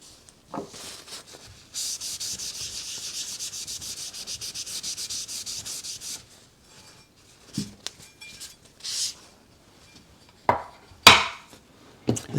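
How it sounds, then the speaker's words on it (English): A steel blade rubbed back and forth on a 1000 grit whetstone, steady scraping strokes for several seconds, then a pause and a few short, separate rubs, close up with no talking. "This is the 1000 grit. We'll now touch the back flat on the same stone to take off that burr."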